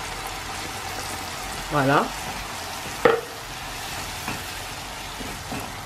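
Grated tomatoes hitting a hot frying pan for pasta with merguez, a steady sizzle and hiss with a stirring scrape, while a voice speaks briefly over it.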